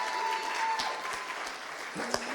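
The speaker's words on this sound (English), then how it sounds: "So another round of applause for our three speakers." Audience applause for speakers at an in-person sales awards event, steady clapping filling the whole stretch with one sharper clap near the end.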